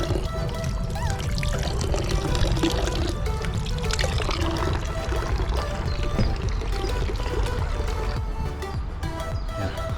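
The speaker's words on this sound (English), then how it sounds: "Wash my hands and now I can eat." Running water splashes steadily from an outdoor tap in a Vienna park as hands are washed, a continuous close, fairly loud pouring and spattering with no pauses.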